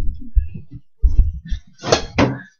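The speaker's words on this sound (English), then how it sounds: "Wait, let me close the door." A door being closed indoors, a couple of soft thuds and rattles followed by two louder close knocks near the end.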